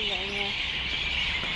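A large flock of birds chirps together on an evening walk in Bukhara, Uzbekistan, making a dense, continuous high twittering that fills the clip, with a few clearer calls standing out near the start.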